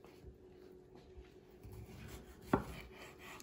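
A knife chopping tomatoes and onion on a board, soft rhythmic cuts building to one sharp, close knock near the end, quiet and without talking.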